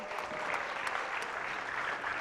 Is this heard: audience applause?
yes